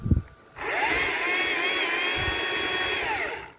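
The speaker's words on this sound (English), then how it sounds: "This is a very small electrical chainsaw" A small Stihl MSA 120 C battery electric chainsaw whirs up and runs at a steady high-pitched whine for a few seconds before winding down, with no one talking.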